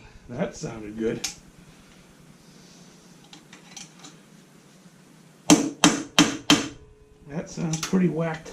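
A hammer strikes the front-end triple tree of a 1987 Concours motorcycle, giving four sharp metallic whacks in quick succession midway through, with someone talking before and after.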